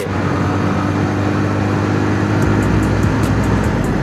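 A car at over 80 speed on the Dhaka-Mawa Expressway, heard as a steady loud road and engine roar with wind rush, then a deeper whoosh as the overtake passes midway.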